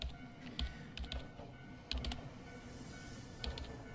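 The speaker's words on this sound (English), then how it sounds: "My slender fingers, the nails on their ends all well kempt, were tapping away at the keyboard" Typing on a computer keyboard, quiet and fairly close, with irregular bursts of clicking keystrokes spaced across a few seconds against a low background hum.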